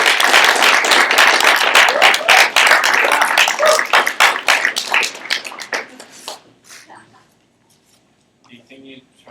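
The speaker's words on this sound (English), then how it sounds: "Let's get another round of applause." Audience applause at a live presentation by writer Tao Lin, with dense clapping that thins out and fades to near silence by the end.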